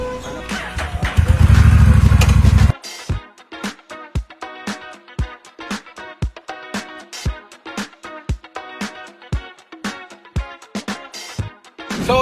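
A Honda Rebel 1100 motorcycle engine runs loud and close with sharp repeated pulses and revs, after an opening burst of dense mixed noise.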